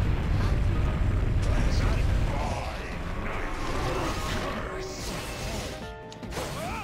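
A bomb block blows up in the puzzle game Catherine, a loud crashing burst with rumbling debris that fades over several seconds, followed by lighter game effects.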